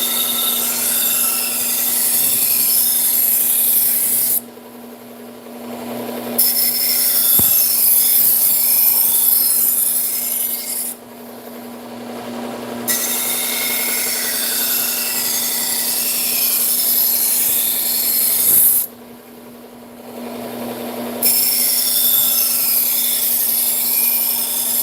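A ceramic coated knife is drawn repeatedly across a sharpening stone, a loud close rasping hiss in long continuous runs with a few brief breaks between passes.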